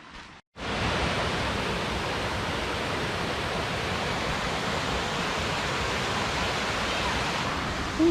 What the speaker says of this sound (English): we hear water streaming down there